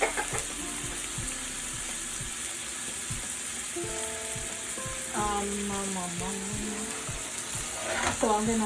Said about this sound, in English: So I'm gonna fry this a little bit.